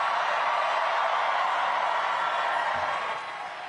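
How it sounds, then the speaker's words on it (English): A large crowd at an election-night victory rally for a New York City mayoral winner gives a dense, steady wash of applause and distant cheering that holds evenly, then eases off slightly near the end. "so please give them all a round of applause"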